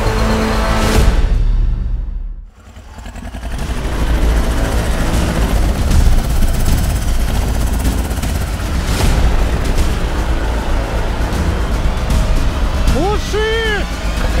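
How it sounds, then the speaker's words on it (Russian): A loud, rough tractor engine roars steadily close by, with a brief dip early on and some voices shouting over it. "Глуши, Игорь! Мотор глуши"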